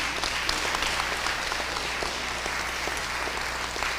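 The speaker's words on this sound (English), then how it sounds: "And a big round of applause to Dr. Hussein, Dr. Burnett, and Dr. Collins" A university honors convocation audience gives a sustained round of applause, a dense, steady wash of many hands clapping at even loudness throughout, with no voices rising above it.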